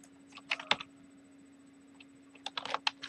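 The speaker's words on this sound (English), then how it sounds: "we're typing mixed text" Keyboard typing during a live programming session: scattered sharp key clicks in two short bursts with a quiet gap between, over a steady low electrical hum.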